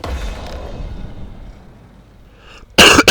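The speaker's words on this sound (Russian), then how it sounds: "Я извиняюсь за кашель" A person coughs near the microphone with a short, loud burst near the end. Quieter game sounds from Dying Light play underneath.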